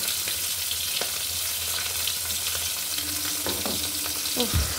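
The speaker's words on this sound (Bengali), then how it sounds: "এবার এটাকে বেশ ভালো করে মিশিয়ে নেব" A spice mixture stirred into khichuri in a pan, with a continuous hot sizzle and occasional scraping and clinks of the spoon against the pan, close and steady with no talking.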